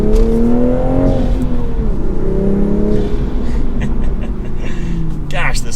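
A Toyota Supra fitted with 15 mm wheel spacers accelerates hard, its engine note climbing and shifting through steady rising pitch sweeps, loud and close with continuous road and wind noise underneath.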